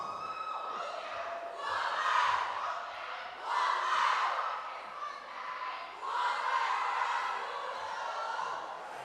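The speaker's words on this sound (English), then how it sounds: "So I want them to shout as loud as possible." A school group at an opening ceremony shouting loudly in unison, three long, swelling collective yells separated by brief lulls, a large crowd heard from some distance in a reverberant space.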